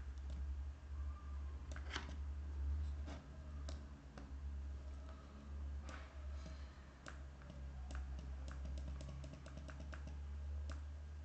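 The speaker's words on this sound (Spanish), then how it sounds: "Tengo que pulsar el botón A." Button A pressed on a micro:bit board in a KeyStudio RGB light project: faint, scattered small clicks and taps over a steady low hum, with no talking.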